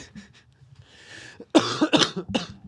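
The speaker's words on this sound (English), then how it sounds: "Oh, this cough. I cannot shake it." A few soft breaths, then a burst of loud, hacking coughs close by, several in quick succession.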